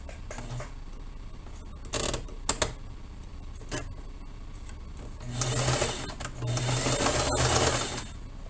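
A sewing machine stitches bias binding seams on a fabric pouf cube, running in close, steady mechanical bursts with short stops and clicks between, the last run longer and louder.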